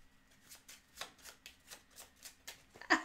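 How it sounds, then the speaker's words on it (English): Playing cards from the Infinity Gauntlet board game are shuffled into a deck, a soft rapid riffle of crisp paper flicks close and quiet, ending with a sharper tap. "Shuffle into your deck."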